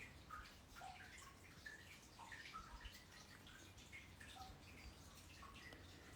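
Water trickles and drips far down a 125-foot mountain spring well, a faint, distant, hollow patter of scattered drops with no talking.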